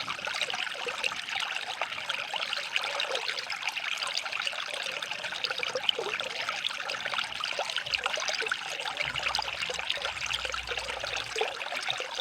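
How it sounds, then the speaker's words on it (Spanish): Water trickles and dribbles continuously, a steady bright splashing stream with no break, heard alone without voices. "qué nos pasó oyendo ese sonido del agua"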